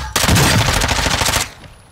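Rapid automatic gunfire in the video game DMZ, a dense burst of shots lasting over a second at steady rhythm, loud and close, then cutting off abruptly.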